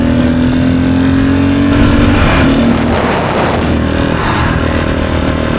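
A 54-year-old Honda enduro motorcycle runs steadily down the road, its engine droning continuously and loud with a close, even tone throughout, no talking.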